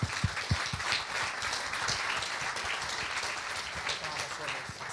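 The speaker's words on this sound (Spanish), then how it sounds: "vamos a hacer un fuerte aplauso para Pamela y Sofía" A dense, continuous wash of audience applause at a talk on ESG and internal control, with a few louder close claps at the start and some voices mixed in.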